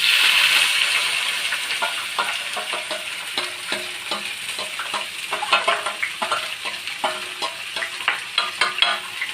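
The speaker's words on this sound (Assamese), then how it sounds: "এতিয়া মই এইখিনি মধ্যমীয়া জুই ঢাকনি দি অলপ ভাজিম" Chicken curry meat fries in a pan with loud sizzling and crackling, plus repeated scraping stirs and spatula taps, the hiss strongest at the start and settling as stirring continues.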